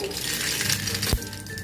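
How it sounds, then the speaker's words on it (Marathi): Mustard seeds crackle and sizzle in a little hot oil in a pan for poha, a brief, busy spattering hiss heard up close, with a sharp clunk near the end. "मोहरी तळतळली"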